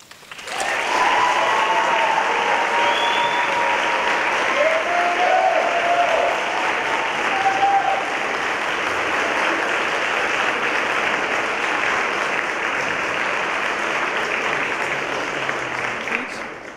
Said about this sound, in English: Let's give these wonderful students a round of applause for their showcase.